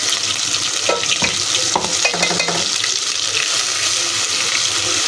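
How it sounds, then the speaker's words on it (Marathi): Onion, garlic and ginger paste fries in hot oil with a steady close sizzle, while a spoon stirs and scrapes the pan in a few bursts; no one speaks. "ही पेस्ट चांगलं तेल सुटेपर्यंत भाजून घ्यायची."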